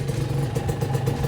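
A Honda NSR 150 SP motorcycle engine firing up, a short close burst of two-stroke clatter and idle at moderate volume.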